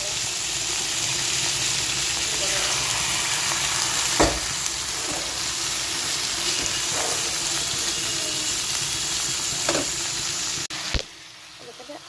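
Minced meat (keema) hits hot oil already holding garlic, chopped onion and bay leaf in a pan. A loud, steady sizzle runs throughout, broken by a few sharp utensil knocks, then cuts off abruptly near the end.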